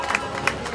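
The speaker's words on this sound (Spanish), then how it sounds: "Un aplauso para ellos, enorme, con calor" Crowd at a rural cattle-pulling competition in La Laguna, Tenerife, clapping and cheering in a continuous diffuse wash, with a few sharper claps and shouts near the front.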